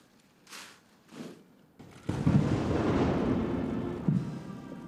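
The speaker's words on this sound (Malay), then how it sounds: "tembakan meriam 21 das dilepaskan dengan diiringi lagu kebangsaan" Royal 21-gun cannon salute: two distant, muffled booms sound a moment apart, then a sustained broad rumble rolls on at a steady level.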